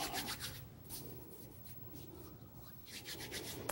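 A scraper drags dough off a floured board while spice scones are made, giving a soft, close, continuous rubbing scrape with small scratchy bursts. No one speaks.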